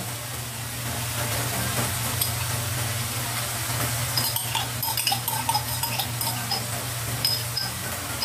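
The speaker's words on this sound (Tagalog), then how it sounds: "ilagay na natin yung ating bagoong alamang. Ilagay na natin, haro na natin." Shrimp paste (bagoong alamang) is stirred into pork and egg in a frying pan, with a steady sizzle and clicking, scraping utensil strokes against the pan, close and moderately quiet.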